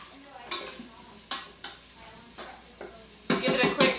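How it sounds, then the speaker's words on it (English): Onions sizzling in melted butter in an Instant Pot, stirred with several scraping strokes and quick bursts of crackle over a soft frying bed, louder toward the end. "So my butter is melted, so I'm going to go ahead and add the onions."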